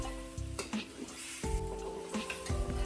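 Goat trotters fry with cumin and black pepper in a pot, a steady close sizzle with stirring scrapes and a few soft knocks against the pot.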